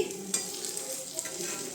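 Fritters sizzling in hot oil in an iron wok, a steady close frying hiss with occasional brief pops and stirring scrapes, no voices.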